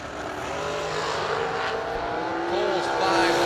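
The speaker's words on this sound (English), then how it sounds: "Casey Cole's beautiful dragster left side" A drag racing dragster makes its run at a fall bracket event, a distant engine roar building gradually under an announcer's voice and crowd ambience.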